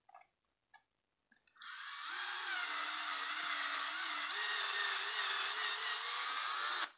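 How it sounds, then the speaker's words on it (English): A few light taps, then a power drill whirs up and bores steadily through the plastic grill of a Vaterra K10 Ascender RC car, a loud, close, sustained high whine with no talk. "So I'm drilling through the front of the grill right now."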